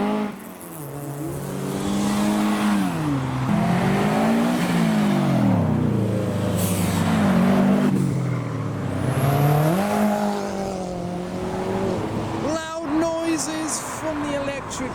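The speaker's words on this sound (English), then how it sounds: "And now for something a little bit different, a Ford Anglia." A Ford Anglia pulls up at a Japanese-themed tuner car meet in Reading, its engine droning close by with rising and falling revs over roughly fifteen seconds, loud and steady throughout.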